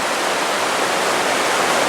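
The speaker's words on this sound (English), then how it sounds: "off to the side of the waterfall, or the little river here." Rainbow Falls in Gorges State Park, a waterfall on a small river, roaring as a steady, dense broadband rush, close and loud with no voices, unbroken for the whole stretch.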